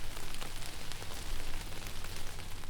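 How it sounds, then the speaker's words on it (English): Steady rain falls at a campsite in Alaska, a soft continuous hiss with a faint low rumble underneath, even and unbroken throughout with no voices. "made our way back to camp where it had started to rain."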